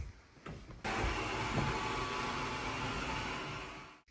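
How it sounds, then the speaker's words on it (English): A smart robot vacuum cleaner in a home game room runs with a steady, close broadband whir and hum, starting abruptly after a short quiet lead-in and holding level until it cuts off at the end. "a smart space is not complete without a smart vacuum."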